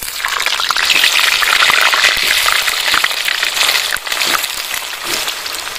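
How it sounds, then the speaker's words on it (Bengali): Cut potato pieces frying in hot oil in a village kitchen pan, a loud, steady bubbling sizzle that holds evenly throughout, with no talking over it. "তেলের মধ্যে আলুটা ছেড়ে দিচ্ছি টুকরো করা।"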